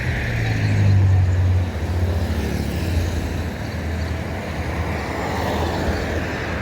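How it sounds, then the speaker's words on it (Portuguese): Road traffic on a highway between Campo Alegre and Cristalina, heard from inside a moving car: a continuous broadband rumble, with a louder passing vehicle droning low early on before the noise settles into a steady roar. "Nossa, o trânsito hoje é difícil."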